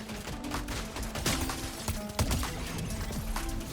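Gunfire in Fortnite rattles in quick bursts and single cracks over a busy game mix, with impacts and mechanical clatter layered in, loud and close throughout.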